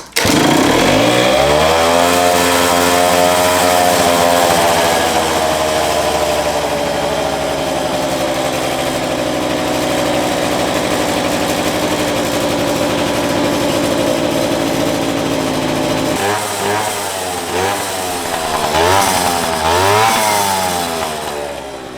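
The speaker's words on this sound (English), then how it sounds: "Don't you just love the sound of a two-stroke?" A 1988 Honda Elite two-stroke scooter engine idles steadily up close, loud and buzzy, then revs in a few uneven blips toward the end, with no talking.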